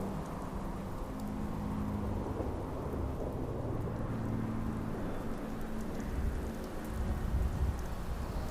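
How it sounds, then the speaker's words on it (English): Deep rolling thunder under steady rain in the video game Fallout, a continuous low rumble that swells louder near the end, with no voices. "Yeah, I got struck by lightning."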